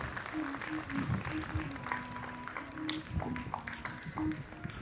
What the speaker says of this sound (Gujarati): જોરદાર તાળીઓના ગડગડાટથી વધાવીએ